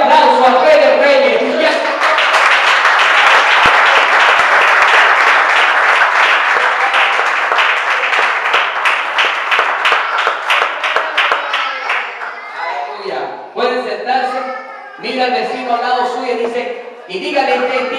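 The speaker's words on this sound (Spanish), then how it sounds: "un fuerte aplauso al Rey de Reyes" A church congregation bursts into loud, sustained clapping for about ten seconds during a Spanish-language service, then the applause thins out as a voice takes over and speaks.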